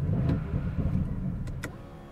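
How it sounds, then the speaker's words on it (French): An Audi RS6 C8 has its ignition switched on, giving a low electrical hum with a couple of brief clicks and whirs from the car's systems, close and fairly quiet, with no speech. "On allume le contact."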